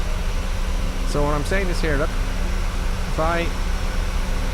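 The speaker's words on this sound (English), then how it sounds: "You see, you can't hear me, can you? With the sound of the engines?" A steady, droning hum from the jet engines of a PMDG 737 in Microsoft Flight Simulator, on a flight from La Coruna to Porto, runs throughout while someone talks over it.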